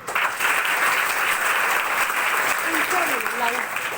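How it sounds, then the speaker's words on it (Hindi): A room full of students at a confidence-development seminar bursts into loud, sustained clapping, close and dense throughout, with a few brief voices rising over the applause near the end. "पहले इस बार के जोरदार तालियां बजा दो"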